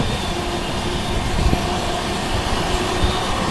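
A train running alongside the Singrauli–Tanakpur Triveni Express while overtaking it makes a loud, steady rumble of rolling wheels and rushing air, with faint squeals and clanks.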